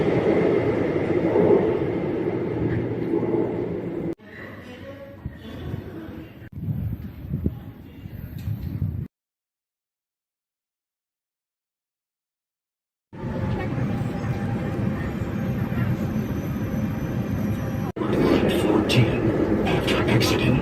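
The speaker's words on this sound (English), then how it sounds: "The next train is arriving in 1 minute" A Shanghai metro train rumbles through a station with a steady rolling roar and rattle, broken by a silent gap, then resumes loud and close.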